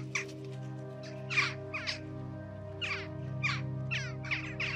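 A crow caws repeatedly, giving about eight harsh, raspy calls in uneven bursts, heard moderately close over a quiet sustained background tone.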